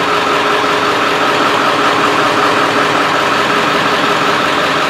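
A 1995 Ford F-250 with the 7.3L engine idling roughly, a loud, steady close-up diesel drone that holds constant throughout with no voices.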